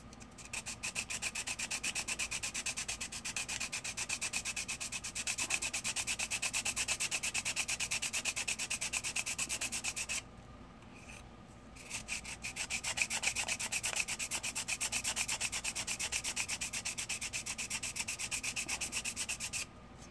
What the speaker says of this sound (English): if you stick with the UMP sander, there's no grit on the side